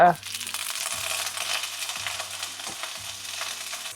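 Steaks laid into a pan of garlic-infused lemon butter over low heat, giving a soft, steady sizzle and frying crackle after a brief clatter at the start.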